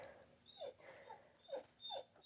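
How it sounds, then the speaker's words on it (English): A female dog whimpers softly in a few brief, high, whining bursts, fairly faint and close with quiet room sound between. "The dog loves to whimper because she thinks it'll get her the attention she wants."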